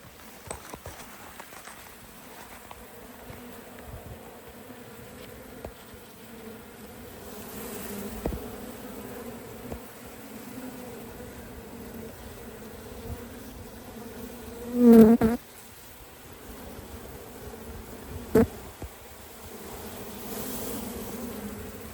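Africanized bees buzzing steadily throughout a removal from a shed floor in southern Arizona, a close continuous drone with occasional louder passes and faint handling noises, no talk.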